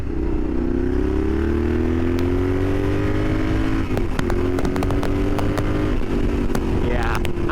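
A Yamaha Super Ténéré 1200 adventure bike being ridden, its engine droning steadily with shifting pitch as it runs along, loud and continuous with wind noise, and a couple of brief rises near the end.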